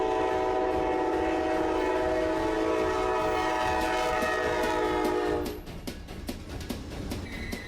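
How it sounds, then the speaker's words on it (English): An Amtrak train pulls into a station, giving a long steady horn blast that ends sharply, followed by lower rumbling and clatter of the approaching cars, with no talk. "Train number 14 will arrive shortly."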